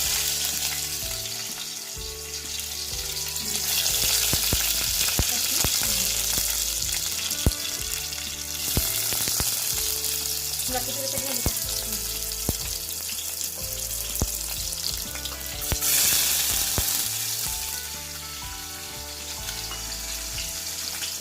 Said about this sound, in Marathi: व्यवस्थित ना ह्या लसूण थोडीशी लाल होऊन द्यायची